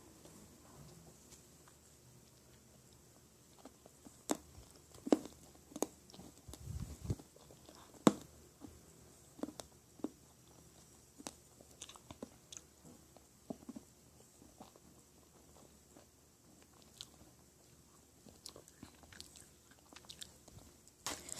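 Someone eats soda-flavored Nerunerune candy up close, with soft, scattered sticky chewing and smacking sounds over a quiet background, and no talking.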